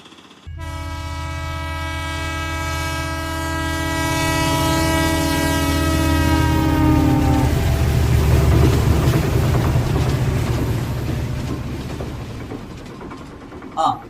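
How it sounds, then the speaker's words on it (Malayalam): Train pulling into a railway station platform during a parish day outing, its loud sustained horn blaring for several seconds over steady rumbling wheels, then rolling noise and crowd chatter as it arrives. "ട്രെയിൻ ഈ പ്ലാറ്റ്ഫോമിലാണ് വരുന്നത്."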